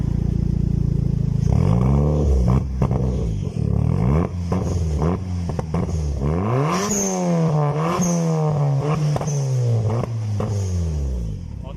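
A turbocharged Toyota Vios engine with an aftermarket exhaust revs repeatedly in quick, rising and falling bursts, loud and close, with a faint turbo whistle over the exhaust roar.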